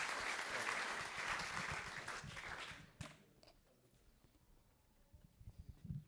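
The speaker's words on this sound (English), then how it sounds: "you can clap again." Audience applause at a React meetup in Amsterdam, a full room clapping loudly for about three seconds before thinning out to scattered claps and quiet murmuring, with a brief final burst of clapping at the end.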